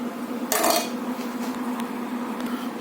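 A metal spoon clinks once against a cup of hot mocha as it is lifted out, a brief close ring followed by quieter faint taps over a steady background hum.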